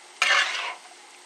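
A short burst of scraping and sizzling as shredded radish for radish cake is tossed and stirred in a hot pan, one close stroke that fades quickly into a soft hiss.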